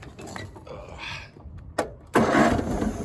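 A riding mower with a hydrostatic drive cranks in a short burst, then its small engine catches and runs loudly close by, after a stretch of quieter handling noise and brief talk.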